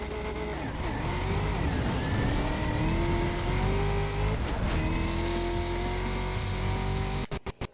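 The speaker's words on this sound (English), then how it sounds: "Do you hear that fucking supercharger whine?" A car engine in the racing video game Split/Second carries a high supercharger whine that rises steadily with the revs, loud and continuous, ending with a few sharp bursts.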